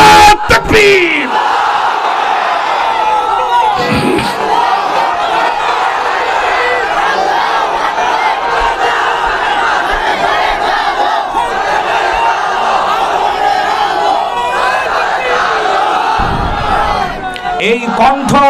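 A large crowd at an outdoor Islamic sermon gathering roaring a Naraye Takbir slogan back in unison, loud, massed voices sustained for many seconds with rising and falling shouts.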